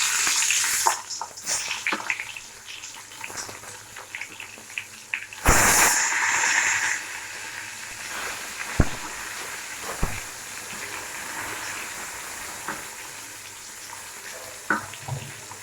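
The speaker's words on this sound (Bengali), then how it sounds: "বেগুনগুলো ভালো করে ভেজে নিতে হবে।" Eggplant pieces fry in a pan, a soft sizzle beneath a burst of loud hissing when they hit the oil, with scattered clatters of a spatula and utensils, close by.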